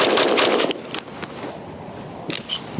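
Rifle shots during shooting drills, a quick burst of several sharp cracks close together, then a pause and a couple more shots further on.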